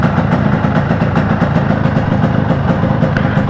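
A 1997 Yamaha RXG motorcycle idles at just under 2000 RPM, a loud, steady, close engine drone with a fast even pulse throughout.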